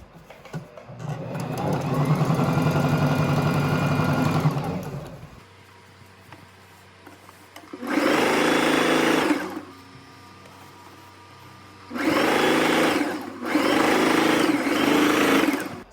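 A sewing machine runs in several bursts, stitching a French seam on a tweed skirt. A long run is followed by two shorter ones and a final pair, with quiet gaps between them and a steady, close whirring hum.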